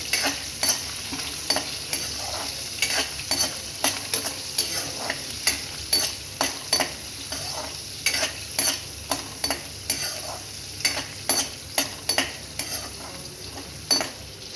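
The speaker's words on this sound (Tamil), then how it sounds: "இப்போ இது கூட ஒரு இருபது சின்ன வெங்காயம் இந்த மாதிரி கட் பண்ணி வச்சுருக்கேன் இதை சேர்த்துடலாம் இப்போ இதை நல்லா ஃப்ரை பண்ணிக்கலாம்" Small shallots sizzle in a pan while a spatula scrapes and stirs them in a quick, regular rhythm of sharp metallic strokes over a constant frying hiss.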